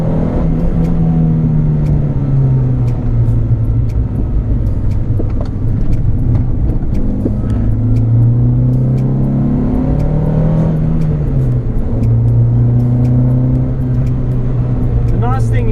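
A Renault Clio with a manual gearbox and open differential is driven hard on a race track, its engine droning and rising and falling through gear changes from inside the cabin, while a person talks over it.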